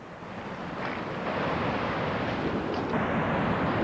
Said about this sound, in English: And here's the water coming down,